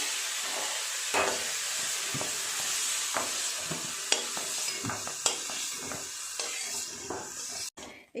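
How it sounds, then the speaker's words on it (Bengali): Prawns seasoned with turmeric and salt sizzle and fry in a wok or karahi while being stirred, with steady hissing oil and irregular scraping and clinking from the spatula, close and continuous. "হালকা করে ভেজে নিয়েছি চিংড়ি মাছগুলো"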